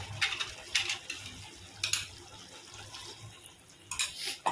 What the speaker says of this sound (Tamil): ஓகே, தண்ணி சேர்த்தாச்சு.